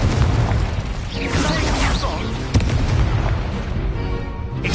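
Fire spell explosions from the video game Hogwarts Legacy boom over dense, continuous battle noise, with a sharp burst near the middle, while a voice shouts spell names over the din.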